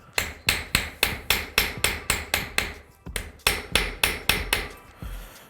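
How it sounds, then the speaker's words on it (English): Rapid metallic hammer blows stamping a metal keychain blank, about a dozen sharp strikes in a steady rhythm, a brief pause, then another quick series of taps, close and clear. "as I hit it with my hammer"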